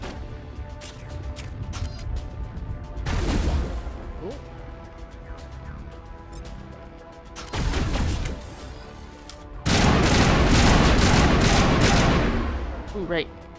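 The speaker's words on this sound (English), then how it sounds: "We're actually shooting a box" Bursts of rapid automatic gunfire from Mass Effect Legendary Edition hammer at a box, coming in three loud sustained volleys with quieter ambient stretches between, and a voice talking underneath.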